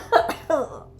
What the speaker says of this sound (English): Coughing is not one of them.